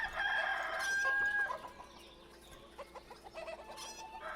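Chickens in the city-builder game Ostriv cluck and squawk, with a crowing rooster up front, then scattered softer clucks at moderate volume over a light ambient backdrop.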